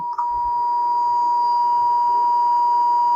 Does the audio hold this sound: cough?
no